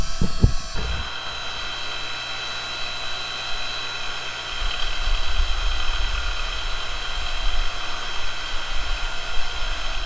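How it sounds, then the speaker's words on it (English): A Ryobi electric wood splitter's motor hums steadily with a whining tone, starting after a few short clicks and holding a constant drone close by, with no talk. "It's just a slow little steady hum of the electric motor."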